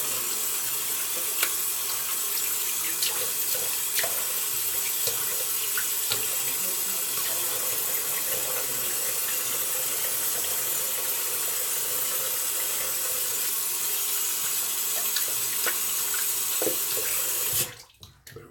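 Bathroom sink tap running steadily while rinsing after a shave, a constant close hiss of water with faint splashes and small clicks, ending abruptly as the flow is shut off near the end.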